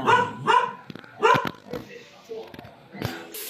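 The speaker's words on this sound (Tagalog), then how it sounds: "Yan naman ang mga aso." Dogs bark in several short, sharp bursts with a whimper or yip between, fairly close and moderately loud in an otherwise quiet home setting.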